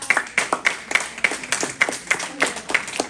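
Applause from a church congregation during a Spanish-language sermon, a steady round of hand clapping with rhythmic sharp claps repeating across the full stretch, fairly close and even in loudness.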